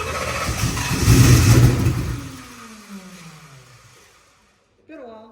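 An X275 engine catching and roaring loudly under throttle, then its revs falling away in a long descending whine and cutting out before a brief burst of talk.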